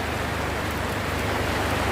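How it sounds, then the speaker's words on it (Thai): Steady, dense hiss of rain falling, an even wash of drops with no breaks and no voices. "ฝนตก"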